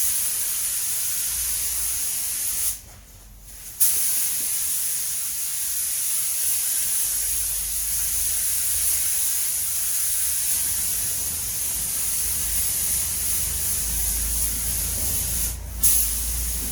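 A spray gun hisses steadily as paint goes onto a Mk7 Ford Fiesta wheel arch, a close, continuous spray broken by one brief pause and a short burst near the end.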